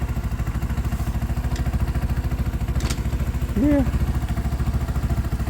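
A Sinnis Outlaw motorcycle engine runs steadily in a low, even throb, with a brief clunk as a gear is selected, while a person says a word.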